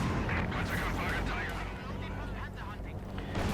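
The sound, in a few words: mortar fire in Company of Heroes 2 video game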